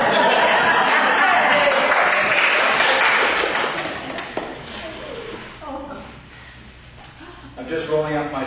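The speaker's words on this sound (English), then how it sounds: "You can clap if you want." A church congregation claps for the medium taking over the online spiritualist service, a dense, sustained patter filling the room for several seconds, then thinning out as voices and murmurs rise near the end.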